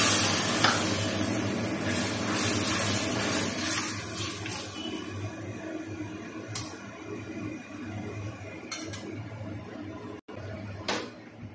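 Milk pours into hot ghee in a pan while making Bengali sandesh, giving a steady bubbling sizzle and stirring scrapes, with a few sharper clinks near the end.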